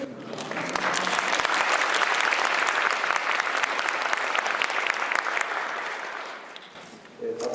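Warm audience applause fills a hall at Peking University as a presidential speech begins, dense steady clapping from many hands that holds evenly and then tapers off near the end.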